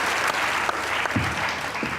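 Studio audience on a talk show applauding guests: dense, continuous clapping that fills the whole stretch at a strong, even level.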